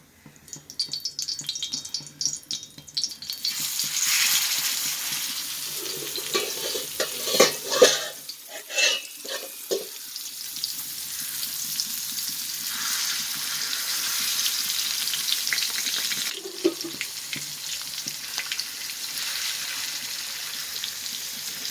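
Nagara fish sizzles and spits in a hot pan as it roasts, with bursts of stirring and scraping, loud crackling rising and falling throughout.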